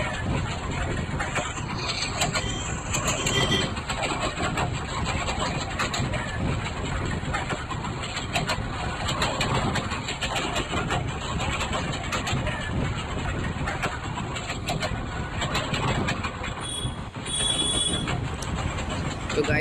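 Train engine and wheels in the video game Indian Train Sim 2024, a continuous loud rumble and clatter of rolling stock with high whining wheel squeal and tonal hums running across the whole stretch.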